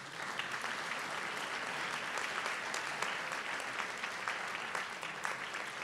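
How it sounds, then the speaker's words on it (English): Sustained, dense applause from a graduation ceremony audience at a theological college, steady and even throughout with no pauses and no talking over it. "Let's give a round of applause to"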